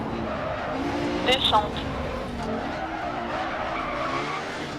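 An Audi Quattro rally car in the Dirt Rally game on a German special stage drives with a steady engine roar and tyre scrub, and a brief skid squeal cuts through partway as a co-driver calls pace notes over it.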